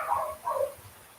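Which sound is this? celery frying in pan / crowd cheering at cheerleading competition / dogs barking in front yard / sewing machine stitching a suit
dogs barking in front yard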